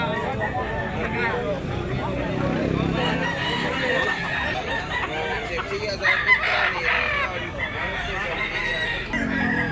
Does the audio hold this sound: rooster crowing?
yes